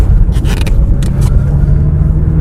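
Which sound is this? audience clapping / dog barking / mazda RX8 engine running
mazda RX8 engine running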